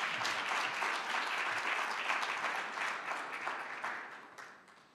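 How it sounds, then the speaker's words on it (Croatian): An awards-ceremony audience claps in sustained, dense applause that holds steady, then gradually fades toward the end, with no speech over it. "je može malo veći aplauz"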